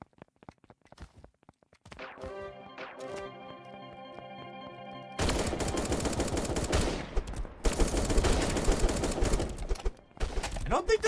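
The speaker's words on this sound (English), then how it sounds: "There's bullets and stuff." Gunfire from a video game starts with a few faint isolated shots, then a tonal chime, then erupts into loud, dense rapid fire in two long bursts, with someone talking over part of it.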